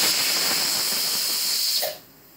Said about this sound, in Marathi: झाले बघा एक कुकरची शिट्टी।